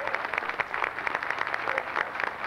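Applause from an audience welcoming young children into an association at a 50th-anniversary gathering, a steady patter of many hands clapping at moderate distance with no voices over it.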